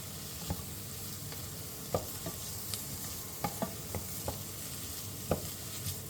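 Vegetables for tomato soup softening in a hot pan, giving a steady low sizzle with scattered soft pops and occasional stirring clicks, fairly quiet and with no talking.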